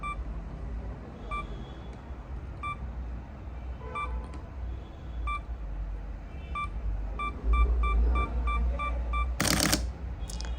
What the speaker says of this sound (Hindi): इसमें पहले 10 सेकंड तक बीप बीप बोलता रहा, टाइम चलता रहा और टाइम चलने के बाद इसने 10 सेकंड में 3 फ़ोटो क्लिक कर दी